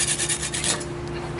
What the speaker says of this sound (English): we just have the wire brush, so we will do it by hand